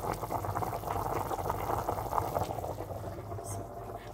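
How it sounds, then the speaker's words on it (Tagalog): A pot of nilagang baka, Filipino beef stew, bubbles at a steady boil, a continuous low burbling and hiss heard up close and fairly quiet, with no voices over it. "Kumukulo na siya."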